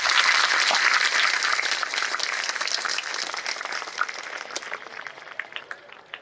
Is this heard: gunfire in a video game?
no